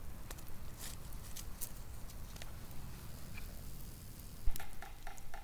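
Food bubbles and sizzles over campfire coals at an overnight bushcraft camp where steak and potatoes are cooking, a close, steady crackling fry with scattered pops and a brief louder knock near the end.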